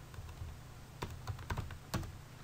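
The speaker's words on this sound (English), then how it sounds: "I'm going to type VLOOKUP here" Rapid keystrokes on a computer keyboard while entering a spreadsheet formula, a close run of irregular clicks and taps with a few sharper key presses near the end.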